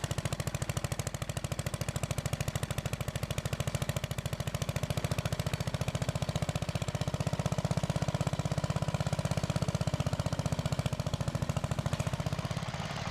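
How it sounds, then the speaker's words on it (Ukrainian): An old walk-behind tractor with an old engine runs steadily outdoors, a continuous loud, rapid mechanical chugging that holds constant throughout with no talk. "Досі працює зі старим навіть двигуном, працює, приносить користь."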